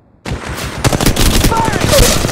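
R-301 Carbine in the mobile game Apex Legends Mobile firing rapid automatic bursts, loud and close, a sustained rattle of shots with a brief pause near the start and a voice cue mixed in.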